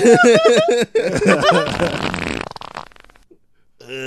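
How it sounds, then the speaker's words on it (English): A toilet-bowl fart sound effect plays loud and close, a run of rhythmic sputtering bursts that trail into a thin rattle, then fade before a short tonal blip at the end. "That's the toilet bowl fart right there."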